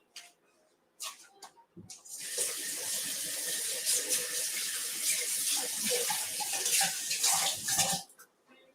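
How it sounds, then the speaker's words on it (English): Hands are washed under a running kitchen tap while making spinach spanakopita: a few small clicks, then a loud, steady stream of water that runs for about six seconds before stopping. "I will give my hand a wash because, as you can see, I've been well spinached."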